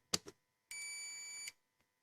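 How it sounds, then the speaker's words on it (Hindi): A digital multimeter set to continuity gives a steady electronic beep lasting under a second while a coil is tested, preceded by a couple of sharp clicks of the probes, close and clear. "इसको अगर हम चेक करते हैं तो बीप, यहाँ पर भी बीप और यहाँ पर भी बीप।"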